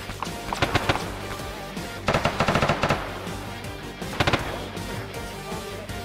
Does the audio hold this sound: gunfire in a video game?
yes